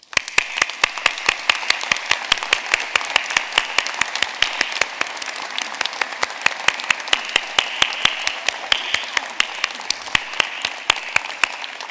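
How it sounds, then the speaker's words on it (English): An audience at a university graduation ceremony applauds family and supporters, steady dense clapping sustained for the full stretch, loud and even with no talking over it. "offer a huge round of applause for all of the help and support that you've had."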